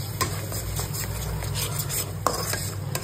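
Spice paste of cashew, poppy seed and mustard being sautéed in a pan for Bengali doi katla fish curry, a low steady hiss with sharp utensil taps and scrapes against the pan.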